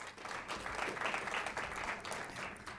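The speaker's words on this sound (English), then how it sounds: "A round of applause." Applause welcoming high school teams at a reading competition final, a brief, even patter of an audience clapping together, heard from a distance and fairly quiet.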